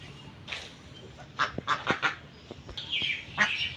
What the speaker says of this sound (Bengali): দেখেন এদিকে আমার হাঁস।